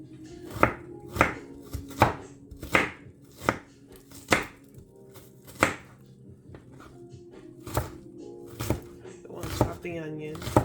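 Onion being chopped with a knife on a cutting board in a home kitchen, a run of sharp, fairly evenly spaced thunks close up, with a voice talking underneath.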